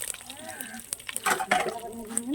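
Curry leaves and dried red chillies crackling and sizzling in hot oil while tempering for a country chicken curry, with short spitting bursts and a steady fry underneath, close up and moderately loud, a voice talking over it.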